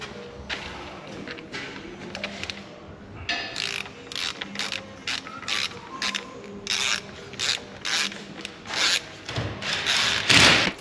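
Ratchet clicking in quick bursts while tightening a left-hand thread bolt on an Audi A5 2.0 TFSI CDNB engine during timing chain work, close and crisp, the repeated strokes growing louder toward the end.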